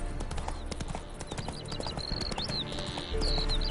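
The horse Roach gallops in The Witcher 3, with steady clip-clop hoofbeats close by, a chirping bird and a brief whinny above them.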